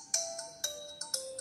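Ringtone preview playing on an Infinix Hot 10s phone: bright electronic melodic notes struck in a repeating pattern of about six tones, clear and close with no voices.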